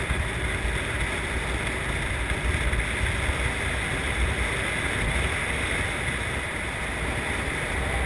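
Steady, loud wind rush through a glider in flight along a mountain ridge, a constant broadband roar with no break for the whole stretch.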